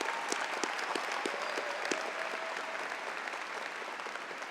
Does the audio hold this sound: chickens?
no